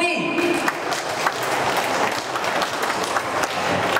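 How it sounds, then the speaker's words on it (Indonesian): An audience at a bonsai contest and exhibition at Ciwalk in Bandung gives a steady round of applause, dense even clapping filling the space for several seconds. "Kita beri tepuk tangan yang meriah untuk Mas Budi."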